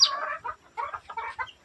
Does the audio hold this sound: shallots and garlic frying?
no